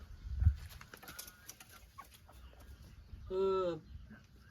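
A chicken clucks in a village in Khammouane, Laos, with one short, close call standing out near the end, while people chat nearby amid light background noise.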